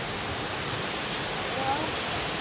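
Water rushes steadily at Ezhakkaranadu waterfall, running with low flow after little rain, a continuous broadband roar that stays even and close throughout with no voices.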